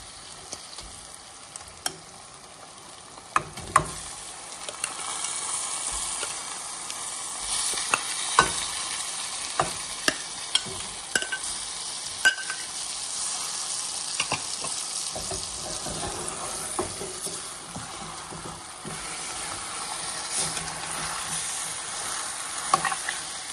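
Chicken pieces sizzle in a hot pan for a Telangana natu kodi curry, with a steady frying hiss broken by frequent sharp clinks and scrapes of a spoon stirring, close and moderately loud throughout.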